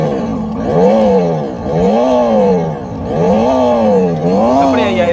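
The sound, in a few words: children's toy motorbike revved with throttle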